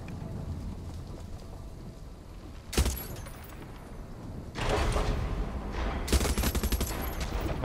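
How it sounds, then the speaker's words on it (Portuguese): A mounted gun fires in Far Cry 6 during a battle inside a volcano, a steady rumble of sustained fire broken by sharper bursts that swell louder toward the end, with no voices. "Essa arma montada é boa, hein?"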